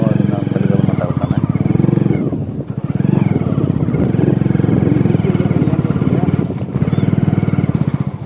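A motorcycle engine is revved close by on a village farm during a tomato harvest, its throbbing, pulsing note rising and falling in several surges with short dips between.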